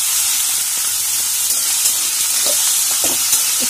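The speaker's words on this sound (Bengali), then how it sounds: "একটু ভালো করে ভেজে নেবো।" Red meat sizzles and fries in a hot pan, a steady, loud, close hiss with scattered crackles and pops throughout, no talking.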